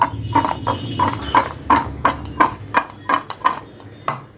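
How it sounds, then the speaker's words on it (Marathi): Dried Bombay duck being mixed by hand with salt and a pinch of asafoetida, giving a steady, rhythmic series of close clicks and taps about three per second, with no talking. "थोडासा हिंग घातलेला आहे त्याला चांगलं असं मिक्स करून घेऊया"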